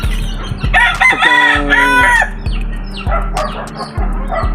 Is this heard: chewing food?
no